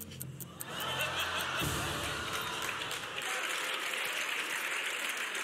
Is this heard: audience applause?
yes